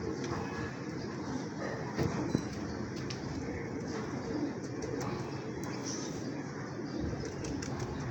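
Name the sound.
pigeons cooing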